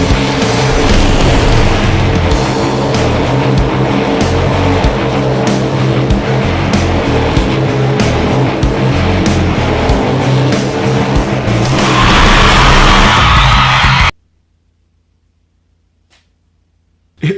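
Monster trucks roar through a stadium race in the Monster Jam: Crush It video game, loud continuous engine noise for about fourteen seconds before cutting abruptly to silence.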